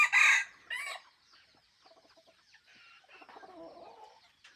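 A fighting cock crows close by in two loud bursts at the start, followed by quieter clucking and soft bird calls.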